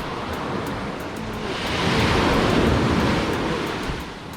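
Ocean waves on the shore at Ocho Rios, Jamaica, a loud rushing surge that swells to a peak midway and then recedes, with the sea heard alone.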